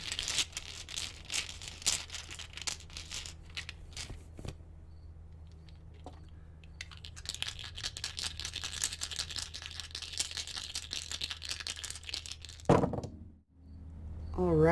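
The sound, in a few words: shuffling tarot dice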